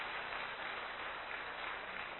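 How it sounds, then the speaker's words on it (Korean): Congregation at Sarang Church (Sarang-ui Gyohoe) applauding to welcome the visiting pastor, a dense, steady wash of clapping that holds an even level throughout without a break. "박수로 맞아주시겠습니다."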